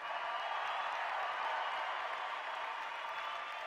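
An audience applauding at a conference, a steady, fairly faint wash of clapping that holds evenly throughout with no voices on top.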